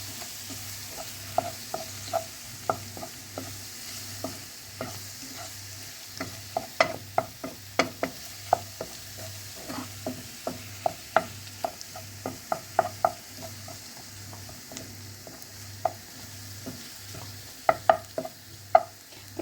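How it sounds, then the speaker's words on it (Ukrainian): Soft sizzling of flour frying in a pan with chicken, under repeated scraping and clinking of a utensil stirring, the strokes coming in quick irregular bursts. "Та швиденько перемішуємо. Потрібно борошно підсмажити."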